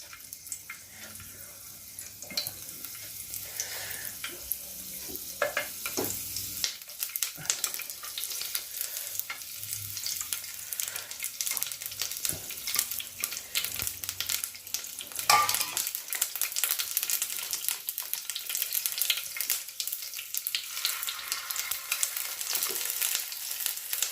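An onion ring omelette fries in oil in a pan, giving a continuous crackling sizzle with scattered pops and scraping that grows denser over time, with no talking.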